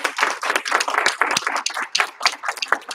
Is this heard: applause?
yes